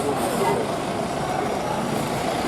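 A Tesco lorry passes on the road, a heavy truck engine rumble with a brief hiss, under people talking nearby.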